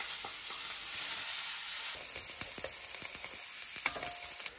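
Steady sizzling of onion frying in hot bacon fat, with occasional clicks and scrapes of stirring, close and continuous.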